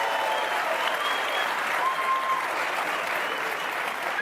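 Sustained applause from a student audience at a comedy appearance, steady and dense clapping throughout with no voices standing out.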